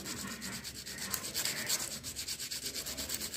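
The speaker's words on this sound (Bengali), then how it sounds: "কমসে কম 1 মিনিট ধরে এমনিভাবে আপনি সিম্পলি খালি ঘষে যান" Thick sandpaper rubbed back and forth over a pointed tip, a steady rasping scrape in quick rhythmic strokes, close and continuous with no voices.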